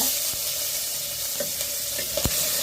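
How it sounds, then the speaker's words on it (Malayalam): Chili and curry leaves dropped into hot frying oil with cooked ginger while making a Kerala vangada curry, a continuous close sizzle and crackle with a few sharp pops and stirring taps. "ഇനി അതിലേക്ക് നമുക്ക് മുളകിടാം കറിവേപ്പില"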